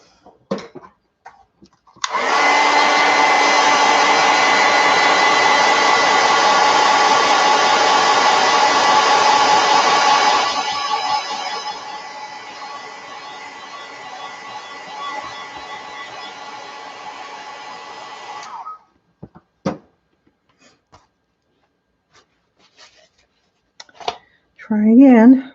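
A hair dryer blows steadily on wet paint on a sketch, a loud continuous whoosh lasting about sixteen seconds that drops in level partway through, then stops, followed by a few faint clicks and handling sounds.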